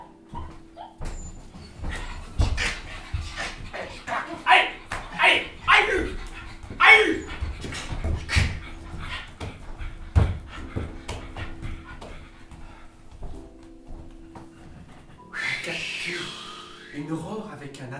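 Stage performers in an improvised show imitate dogs with their voices, producing rhythmic panting bursts, yips and whimpers at close range, with pauses and a brief higher whine near the end.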